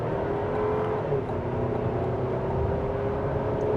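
A 2026 GMC Acadia Elevation accelerates moderately onto a multi-lane highway, with a steady engine drone, road roar and a faint rising tone heard from inside the cabin, continuous and even throughout.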